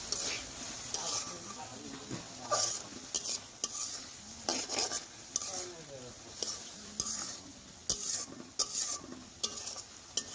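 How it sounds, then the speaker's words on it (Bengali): Tomatoes cooked down with salt are stirred in a pan over heat, a spoon scraping and clacking against the metal in irregular strokes beside a soft sizzle, with faint background voice. "সেই সাথে আরও কিছুক্ষণ নাড়াচাড়া করে নেব যাতে করে টমেটোটা কয়েলের গায়ে থেকে উঠে আসে"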